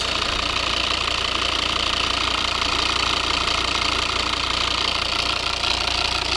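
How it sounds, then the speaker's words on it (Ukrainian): A 2011 Volvo V70 2.0 D3 diesel with six-speed manual idles with the hood open, a steady close-up engine clatter with a faint knocking rhythm running evenly throughout, no talking. "Ось робота двигуна."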